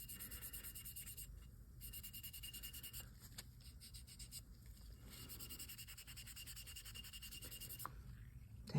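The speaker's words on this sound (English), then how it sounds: "I just got a piece of a white Scotch-Brite here to see if I can help that come off." Close, quiet scrubbing as a white Scotch-Brite pad is rubbed back and forth over a golf putter head, a steady run of rasping strokes with brief pauses and no talk.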